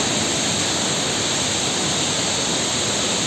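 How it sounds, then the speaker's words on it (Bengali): A waterfall at Changey Falls, Kolakham, pours down into a cave hole, producing a steady, dense rushing roar heard up close, with no voices or breaks throughout. "আমি এখন ছাঙ্গে ফলসের একদম নিচে নেবেছি"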